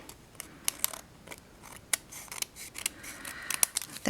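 Scissors trim excess paper off a handmade greeting card panel, giving a close series of sharp snips at an uneven pace with light paper rustling between cuts and no talk.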